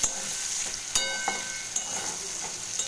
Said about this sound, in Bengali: এবার আলুগুলো আর পেঁয়াজের সাথে একটু ভালো করে নাড়াচাড়া করব